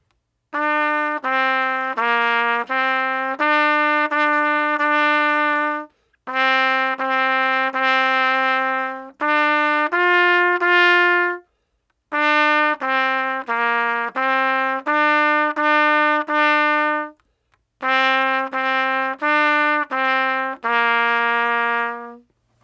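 A trumpet plays a simple melody in clear, separate phrases with short pauses between them, each note steady and sustained, solo and close.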